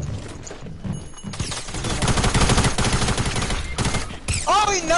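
Video game gunfire with a hand cannon in play, a dense run of loud, close shots and bursts that overlap into a near-continuous fusillade, followed by brief electronic game effects.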